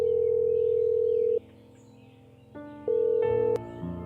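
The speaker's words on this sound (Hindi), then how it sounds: "पंडित जी को फोन करती हूँ।" A phone call being placed in a Hindi family drama: a steady tone sounds first, followed after a pause by a few shorter tones with brief gaps between them, heard alone with no talking.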